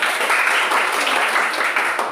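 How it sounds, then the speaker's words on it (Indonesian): A classroom audience breaks into brief, dense applause, many hands clapping together at an even, steady level. "tepuk tangan buat mereka"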